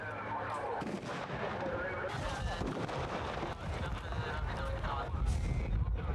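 Repeated Israeli gunshots crack and boom amid a noisy clash with Palestinian youths, with voices and crowd commotion mixed in throughout.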